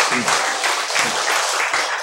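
Audience applause at a Korean health lecture, a dense steady wash of clapping across the whole stretch with faint voice traces underneath.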